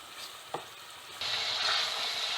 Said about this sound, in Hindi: हम मसाले को बहुत अच्छे से भून लेंगे।